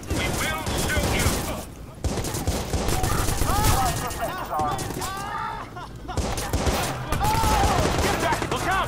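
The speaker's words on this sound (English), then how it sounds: "Get back! Look out! Shots fired!" Gunfire rattles through a firefight in the video game Watch Dogs, dense overlapping shots sustained almost throughout, while voices shout over the noise.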